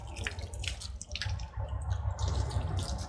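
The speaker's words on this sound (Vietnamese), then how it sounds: "xong phần xả nước này" Water from a hose or tap rinses a Rottweiler during its bath, an uneven spattering and dripping that rises and falls close by, with no talking.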